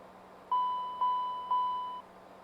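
Smoke detector test in a CL650 business jet flight simulator cockpit: three evenly spaced electronic beeps about half a second apart, each a steady tone that fades slightly, over a quiet background hum.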